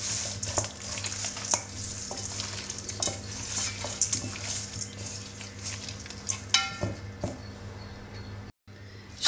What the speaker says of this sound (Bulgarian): Разбърквам по този начин.